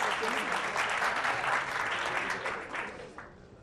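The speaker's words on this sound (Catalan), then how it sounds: "Un aplaudiment, molt bé" An audience applauds a school quiz team in a dense burst of clapping that holds steady, then thins and fades toward the end, with no voices over it.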